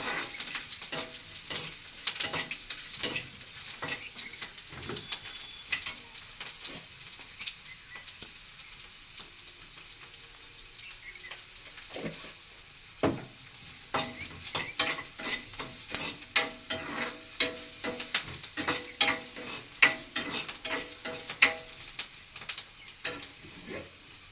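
Spices crackle and sizzle in hot oil as a tempering for rice, with dense irregular pops and stirring clatter close by, busier near the start and again toward the end.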